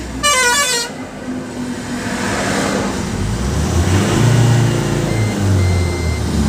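Exhaust brake engaging on a moving truck, heard as a loud, close, rough low rumble and roar that swells over several seconds beneath steady road and engine noise, after a short high horn-like tone at the start.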